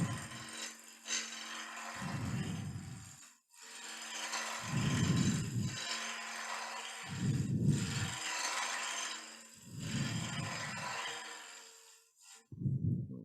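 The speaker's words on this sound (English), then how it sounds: "tilt the handle up to initiate the cut" A woodturning gouge cutting a wig stand on a lathe, with a steady rasping hiss from the spinning wood under the tool and a low rumbling swell in five separate passes with short quiet gaps between them.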